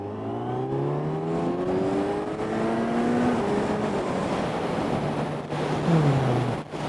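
A motorcycle engine revs up and accelerates through the gears, a close, continuous rising drone over heavy wind rush, with the pitch climbing, dropping at a shift and climbing again.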